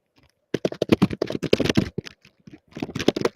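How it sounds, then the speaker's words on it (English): A computer keyboard is being typed on close to a microphone, giving quick bursts of loud clicky keystrokes with short pauses between the flurries. "You need to mute your mic when you're typing"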